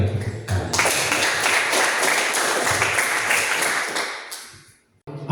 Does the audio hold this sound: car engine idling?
no